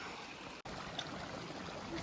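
Creek water flowing steadily along a backcountry trail, a constant broadband rush close by with a brief dropout partway through.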